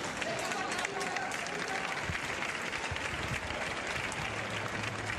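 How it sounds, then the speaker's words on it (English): Stadium crowd applauding at the Johan Cruyff Stadium during a Barcelona Women versus Arsenal Women Champions League match, a dense continuous wash of clapping with a commentator talking over it. "hear the applause around the stadium here at the Johan Cruyff Stadium"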